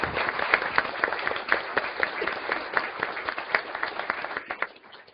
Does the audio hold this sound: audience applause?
yes